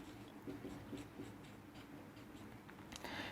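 Pen scratching across paper while working out a maths division problem, a series of short close strokes in a steady, uneven rhythm with no talk.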